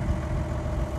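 A tractor engine warming up, a steady low rumbling idle that holds even and continuous at close range with no voices.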